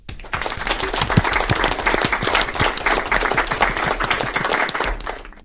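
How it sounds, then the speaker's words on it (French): A crowd applauds with dense, rapid clapping that holds steady for several seconds, loud and close. "Applaudissements, s'il vous plaît."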